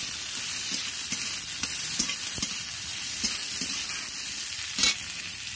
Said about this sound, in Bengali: সোয়াবিনটাকে ভালোভাবে নেড়ে ভেজে নিলাম